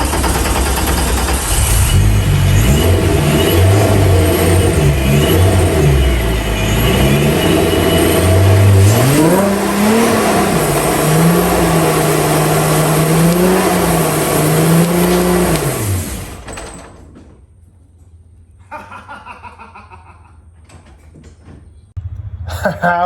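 A supercharged VR6-swapped VW Mk1 Golf (Rabbit) running on slick tires roars loudly nearby, its engine note climbing and falling through several pulls before cutting off, leaving near quiet with a few clunks and light rustling.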